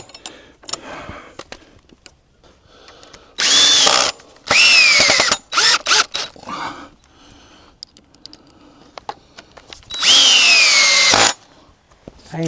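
A screw gun drives screws into a wooden board while a donkey gate is built, with several loud, close whirring bursts of a few seconds each and quieter knocks and handling noises between them.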